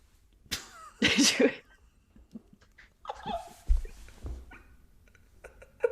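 A dog barking indoors in a room, a few sharp separate barks and yips with quiet gaps between them, fairly close, mixed with small snorts and rustles and no talk.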